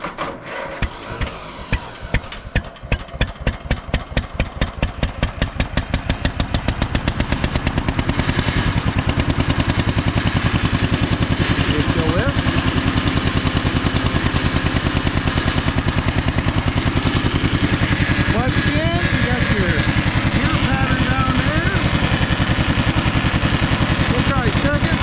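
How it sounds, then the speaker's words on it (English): John Deere MT tractor engine started with choke, its slow, separate firing pops quickening within a few seconds into a loud, steady, rapid putter that runs on for the rest of the clip, close by. "let's go ahead and flip it on, give her a little choke, pull out"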